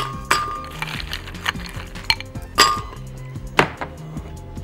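Ice cubes dropped one by one into a glass for a persimmon and orange cocktail, several sharp separate clinks spaced about a second apart, close and clear with no talk.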